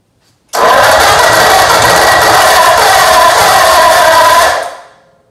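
A flathead engine fires up after fuel is squirted into its carburetor, then runs loud and close with a rough, steady roar for about four seconds before dying away.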